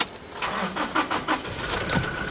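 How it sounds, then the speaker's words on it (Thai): A van engine idles with uneven knocking pulses, fairly quiet and close by, with some rattling in the background. "มาฟังเสียงรถกันเลยนะครับ"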